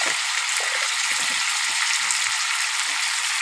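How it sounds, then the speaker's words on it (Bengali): Banana curry with turmeric and salt sizzles steadily in a pan, a loud continuous frying hiss with faint stirring movements underneath. "মানে হালকা একটু ভেজে নেব"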